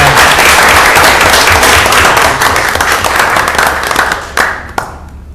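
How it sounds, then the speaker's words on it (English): Loud, dense applause from an audience at a board meeting fills the room, a steady wash of clapping that thins out and fades near the end. "So if you join me in a round of applause for Jim."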